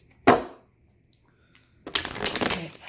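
A single quick riffle of cards at the start, then a pause, followed by a longer rustling, slapping shuffle of a deck, close and fairly loud.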